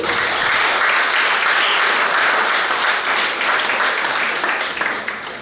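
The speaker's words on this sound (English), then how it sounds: "Please let's give them a round of applause" A hall audience at a junior science and maths quiz claps steadily for the contestants, a dense, even wash of applause holding at moderate loudness before tapering slightly at the close.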